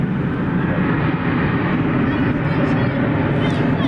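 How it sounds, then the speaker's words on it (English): An American Airlines Airbus A321 departing DFW airport at night, a loud, steady broadband engine roar filling the whole stretch, heavy low rumble, with faint talk underneath. "American 2430 to San Francisco is on its way. An Airbus A321."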